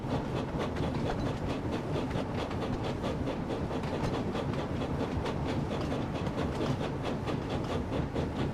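Mixed-traffic steam locomotive with train running on rails, a steady rhythmic chugging and clatter of moving parts, continuous and moderately loud with no talk.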